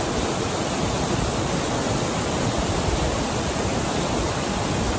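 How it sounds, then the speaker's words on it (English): A massive waterfall in Ireland pours into a stream, making a steady, dense roar of rushing water that stays even and unbroken with no voices. "you can see through there is a waterfall, massive one, and it flows down"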